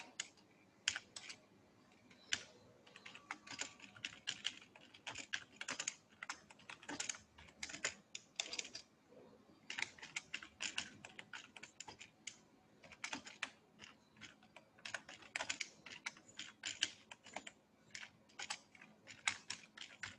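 A letter is typed on a computer keyboard, with a steady run of close, quiet keystrokes in irregular bursts and short pauses over twenty seconds.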